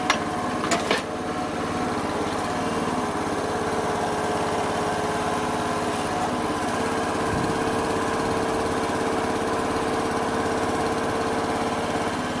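A gold digging machine with a gator system idles steadily, its small engine giving a loud, continuous, even drone with no change in pace throughout.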